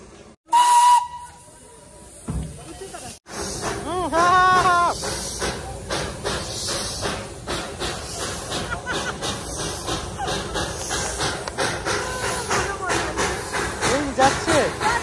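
Darjeeling toy steam train hissing steam with a whistle, a sharp burst near the start followed by a long, loud, rushing hiss with rhythmic puffing pulses, close by.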